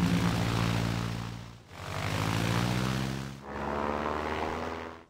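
A bomber's propeller engines drone steadily in the Sid Meier's Ace Patrol video game, a loud continuous roar that dips briefly twice as the sound pans or cuts.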